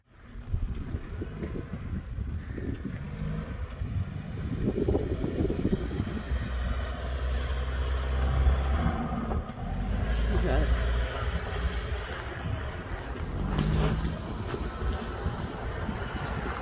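Subaru car driving up a rough mountain road near Mount Antero, with a steady engine and tyre rumble, wind buffeting the microphone, and people talking over it throughout.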